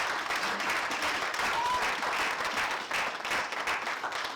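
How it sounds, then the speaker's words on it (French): A church congregation applauds, with dense, continuous clapping that holds steady and fairly loud from start to finish. "Est-ce qu'on peut applaudir pour lui?"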